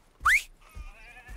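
A sheep in the video game Red Dead Redemption 2 gives one short, close bleat, followed by faint thuds and a thin sustained tonal background.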